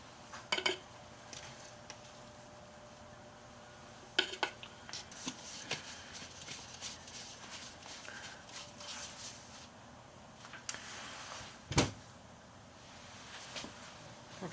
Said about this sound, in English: Stir it up a little bit there to make sure that there's no clumps.